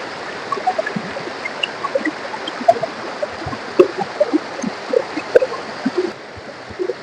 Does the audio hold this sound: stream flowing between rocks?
yes